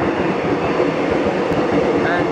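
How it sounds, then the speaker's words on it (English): A train runs through a station platform with a steady, loud rumble and rolling wheel noise up close, plus a brief faint squeal, and no other sound stands out. "That is not the train I'm going to get on."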